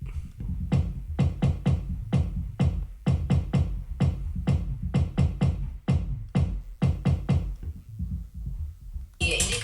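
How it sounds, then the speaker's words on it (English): A synth bass line plays alongside a punchy kick drum, sharp hits landing in a quick, driving rhythm, with a brief brighter burst at the end. "And this is with the kick."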